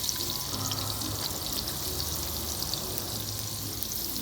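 Stuffed pointed gourd (potol) coated in egg frying in hot oil, a steady close sizzle and crackle that holds evenly throughout with no talk.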